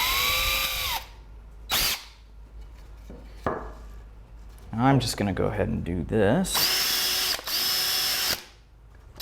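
Power drill fitted with a 1/8 inch bit boring into pallet wood for a smokehouse build: short whirring bursts at the start and end, close by, with someone talking in the middle.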